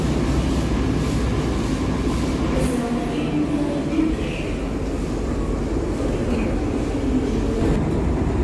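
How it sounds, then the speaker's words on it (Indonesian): A Mataram passenger train bound for Jakarta Pasar Senen rolls past with a continuous heavy rumble and rattling wheel noise that stays loud and even throughout. "Ada kereta Mataram tujuan Jakarta Pasar Senen."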